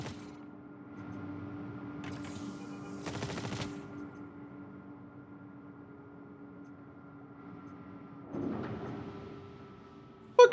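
Non-player characters firing guns at the player near the Grim Hex station in a space game: a few short, quiet bursts of automatic fire separated by long pauses over a steady low electronic hum.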